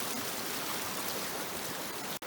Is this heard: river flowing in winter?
yes